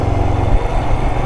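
A Royal Enfield Himalayan 411 motorcycle engine chugs along steadily in second gear, giving a continuous low, throbbing rumble mixed with wind noise and no pauses.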